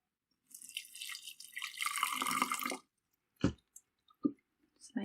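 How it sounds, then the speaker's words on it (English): Water trickling and splashing from a tap or jug onto tea bags in a glass jar for solar fabric dyeing, a steady pour of about two seconds followed by a few separate clinks and drips. "So I'm going to put my tea bags in first. And a little bit of water on the top."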